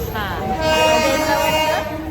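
A moving passenger train near Kalyan and Thane rumbles and clatters steadily, with a long horn-like tone sweeping through the middle and people talking close by.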